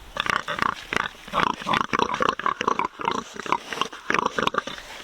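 Pigs grunting and squealing in quick, overlapping bursts, close and loud, a busy chorus of oinks with almost no pause.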